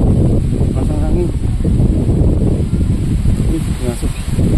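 Strong wind roars and buffets the microphone in a dense low rush, with muffled voices talking underneath.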